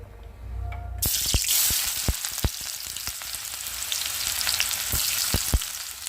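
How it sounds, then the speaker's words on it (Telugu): Onion, tomato and green chili dropped into hot oil, a sudden loud burst of sizzling after a quiet start that keeps crackling steadily, with several sharp knocks of a utensil against the pan, close up and without talk. "ఆయిల్ కూడా మనకు బాగా వేడైంది ఉల్లిపాయ టమాటా పచ్చిమిర్చి వేసేసుకుందాం"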